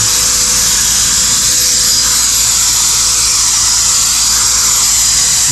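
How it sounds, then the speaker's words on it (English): A loud, continuous high-pitched whirring of a drill brush spinning while detailing a 2020 Honda Fit, steady and close throughout with no pauses. "this drill brush is pretty awesome."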